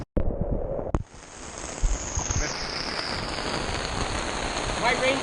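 Heavy rain pounding steadily on a campsite tent during a storm, loud and close, after a couple of sharp knocks at the start.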